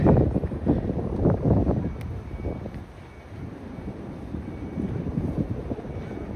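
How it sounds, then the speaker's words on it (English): Gusty wind in Tokyo buffets the microphone with a low, rumbling roar that swells and eases, loudest at the start, with no talking. "Oh my goodness, it is windy. Hopefully the wind noise is not too bad."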